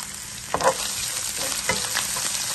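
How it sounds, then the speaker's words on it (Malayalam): Coconut and onion sautéing in hot oil for a Kerala mixed-vegetable mezhakkupuratti: a steady close sizzle with two sharper stirring scrapes of the spatula partway through. "ഈ തേങ്ങായും ഉള്ളി എല്ലാം കൂടി ഒന്ന് ഇതിനകത്ത് ഇട്ട് വഴറ്റിയെടുക്കാം"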